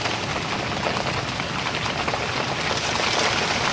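Rain mixed with hail pouring down around a parked 2003 Subaru WRX, a dense, even, close hiss of drops pelting surfaces throughout, no voices.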